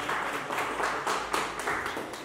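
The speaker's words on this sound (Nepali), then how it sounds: "कृपया उहाँको लागि जोरदार ताली दिउँ" Audience at a book event applauding for Sita Subedi, a steady burst of clapping from a crowd in a hall, moderately loud with rhythmic pulses.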